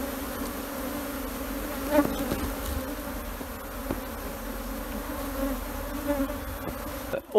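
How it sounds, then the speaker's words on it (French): A swarm of Africanized honey bees hums steadily around their hive on a board, a dense continuous drone with a few individual bees buzzing close by. "il y a beaucoup moins d'abeilles qui volent, qui attaquent."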